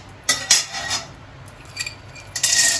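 Peanuts, cashews and raisins are tossed in a pan to fry. Close scraping and clinking of a utensil against the metal comes in short bursts over a faint background hiss.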